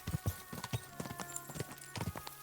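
Crisp horse hooves clip-clop in an uneven trotting rhythm in Final Fantasy XIV, a run of close, distinct knocks repeating steadily alone with no talk.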